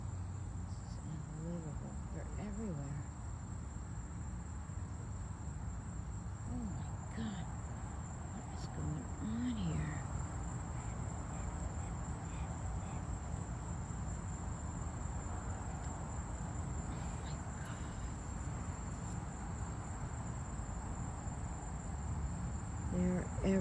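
A night scene during a mating swarm of beetles: constant high insect trilling and buzzing fills the air, with faint chirps and rustles underneath and a steady low background hum.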